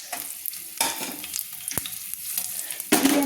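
Five or six slit green chillies stir-fried in hot spiced oil for a Bengali vegetarian chorchori, a close sizzle broken by several sharp scrapes of a spatula and a louder burst of frying near the end.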